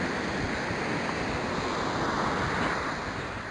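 Waves breaking on a remote beach near an old shipwreck site, a continuous loud wash of surf and rushing water with wind buffeting the microphone, no voices.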